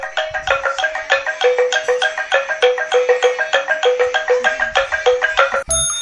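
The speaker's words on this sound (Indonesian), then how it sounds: "Lado-lado adalah alat musik tradisional yang berasal dari Sulawesi Tenggara, khususnya di daerah Kendari dan sekitarnya." Lado-lado, a traditional instrument from Kendari in Southeast Sulawesi, plays a quick, steady run of bright, evenly spaced notes in a repeating pattern, with a short chime at the close.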